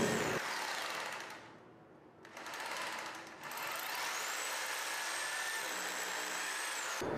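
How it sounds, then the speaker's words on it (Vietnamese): A concrete hammer drill bores holes into a wall for mounting a wall-hung rack, giving a harsh, loud whine that stops for about a second and a half, then resumes with a steady, high-pitched grinding tone. "ta dùng khoan bê tông để khoan lỗ"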